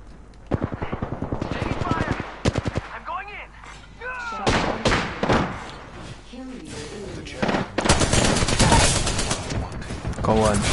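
Apex Legends gunfire rattles in rapid bursts and single sharp shots, some near and loud, interspersed with heavy impacts, while players talk over the action.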